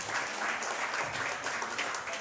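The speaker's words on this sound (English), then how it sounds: "One more round of applause for Don Drake." A room full of people applauding a high school football head coach at an evening coach talk event, continuous, even clapping at moderate distance without talk.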